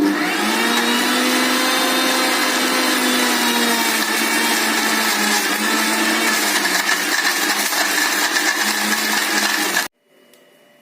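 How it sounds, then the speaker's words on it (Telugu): A mixer grinder blending red chillies to a fine paste whirs loudly and steadily for about ten seconds, then cuts off abruptly, leaving near silence. "ఈ పచ్చిమిరపపళ్ళను మెత్తగా అయ్యేలా మిక్సీ చేసుకోవాలి"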